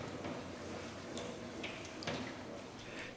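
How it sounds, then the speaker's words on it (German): Very hot water is poured over mozzarella curd, giving a steady, soft splashing wash with a few brighter splashes. It sounds fairly quiet and close, with no talking. "Diese Teige werden mit sehr heißem Wasser, 90 bis 100 Grad, übergossen"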